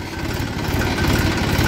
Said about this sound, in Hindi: खेत में उतर लिया है ट्रैक्टर।